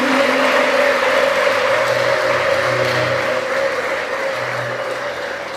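A church congregation applauds its parish priests, a dense sustained wash of clapping that fills the space and slowly thins toward the end, with no speech over it.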